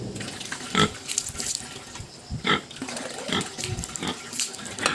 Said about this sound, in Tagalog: Ano yung baboy mga viewers?